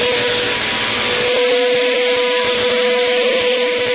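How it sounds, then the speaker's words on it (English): A vacuum cleaner runs with a loud, steady motor whine and broadband roar that holds throughout, its tone bent into an auto-tuned pitch that shifts midway with choppy low-end pulses. "I'm auto-tuning my vacuum"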